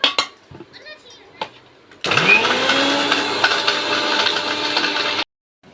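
A mixer grinder blends idli podi spice powder made with black urad dal, a loud, steady whirring grind that kicks in suddenly after a few faint clicks and runs for about three seconds before stopping abruptly.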